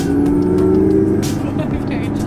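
A supercar pulling onto a highway with a teenage driver, engine droning low and loud with a rising harmonic as it gains speed and a voice briefly heard over it.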